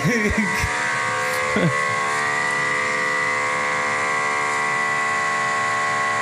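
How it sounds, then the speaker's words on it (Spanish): Old air conditioner running noisily at night: a steady, loud mechanical hum with strong tonal whine drones continuously, with brief voices over it at the start. "era de un clima o aire acondicionado que estaba como muy viejo y sonaba de la verga"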